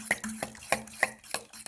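Cheese being mixed into a quiche filling makes a quick series of rhythmic stirring knocks and scrapes against a bowl, about six strokes, close and fairly quiet, with no voices.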